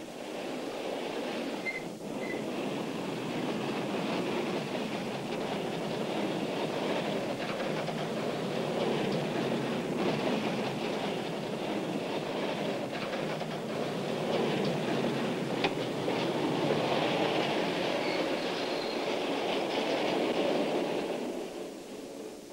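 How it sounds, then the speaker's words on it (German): A 1500-tonne freight train making an emergency stop from 50 km/h, a loud, continuous roar of rolling wheels and grinding brakes that holds steady for over twenty seconds before easing off at the end. "Die Schnellbremsung eines Güterzuges mit einer Zugmasse von 1500 Tonnen und 40 Bremsprozenten."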